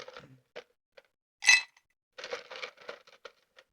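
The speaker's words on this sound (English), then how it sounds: "You put your ice cubes in it, which are your rocks." Ice cubes dropped into a rocks glass, a few scattered clinks followed by one loud sharp crack and then a quick rattle of several cubes settling, close and clear with no talking.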